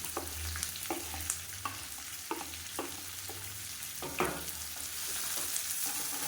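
Finely chopped onions and green chillies sizzle in a hot pan with a steady hiss, broken by regular scraping strokes of a spatula stirring them, close and fairly loud with no talking.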